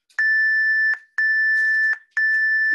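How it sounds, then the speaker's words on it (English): A workout interval timer beeps out three loud, sustained electronic tones, each about three-quarters of a second long and separated by short gaps, with no other sound. "Don't listen to that timer."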